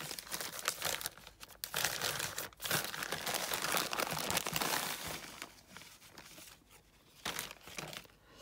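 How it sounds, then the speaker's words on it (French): Curling ribbon on a parcel snipped with scissors, heard as close crinkling and rustling of ribbon and wrapping with a few sharp snips, continuous for several seconds, quiet and with no talking. "je vais juste couper le bolduc parce que j'arriverai pas à enlever le nœud"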